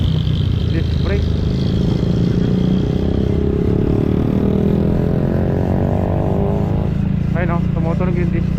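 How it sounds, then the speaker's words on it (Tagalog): A motorcycle's disc brake squeals with a thin, high-pitched whine while stopped at a long traffic light, with a caliper clogged by sand, under a steady rumble of idling engines and traffic. "tumutunog yung disc brake"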